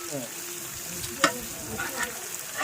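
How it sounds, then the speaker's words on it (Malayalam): Curry leaves fry in a pan for fish curry while being stirred, giving a close steady sizzle with occasional spoon scrapes and a sharp clink; faint speech sounds in the background. "കരിവേപ്പില ഇടുന്നു. അപ്പോൾ പച്ച സാധനങ്ങളൊക്കെ ആയി ഇളക്കിക്കൊണ്ടിരിക്കണം കേട്ടോ ഫുള്ള്."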